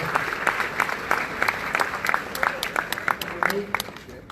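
Large crowd applauding at a conference, steady dense clapping that carries on throughout, loud and near, with a voice speaking over it.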